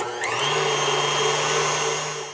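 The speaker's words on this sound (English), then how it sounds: "And we want to beat them till they're frothy." An electric hand mixer whirs steadily at close range as its beaters whip egg whites with cream of tartar until frothy, a continuous loud motor hum spinning up at the start.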